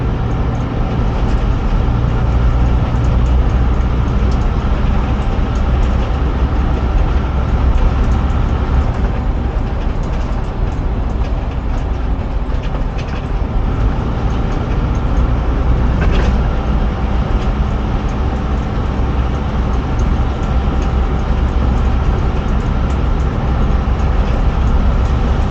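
Steady, loud interior rumble of a Bedford YMT bus with Duple Dominant II coachwork cruising along, engine drone and road noise filling the cabin without letup from start to finish.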